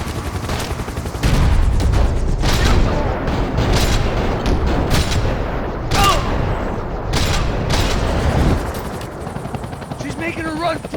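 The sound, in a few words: gunfire in the video game Max Payne 3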